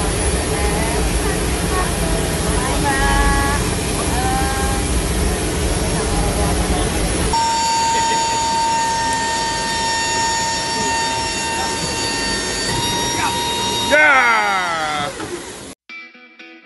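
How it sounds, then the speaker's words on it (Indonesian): Hercules military transport aircraft engines roar in a loud, steady drone with tonal whines, later shifting to a different engine texture; speech runs over parts of it. "pesawat Hercules."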